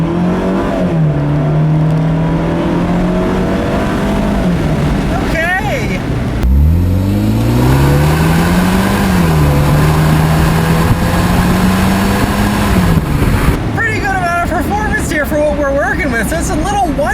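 A 2017 Fiat 124 Spider Lusso with a turbocharged 1.4-liter four-cylinder engine accelerating in drive on a back road, its engine note rising steadily, dropping at a shift and climbing again, heard from inside the car.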